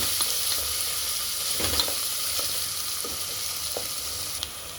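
Ginger-garlic paste fries in oil in a pan for a mutton curry, making a steady, fairly loud sizzle with faint stirring scrapes and light clicks and no voices.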